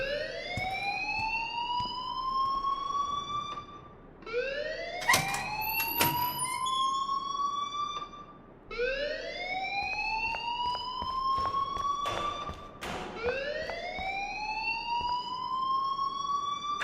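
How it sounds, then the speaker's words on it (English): A school alarm blares in the video game Life is Strange: a loud, rising electronic whoop repeats about every four seconds. Brief sharp clanks break in between the sweeps, and no one speaks. "please turn off that alarm since that's your job"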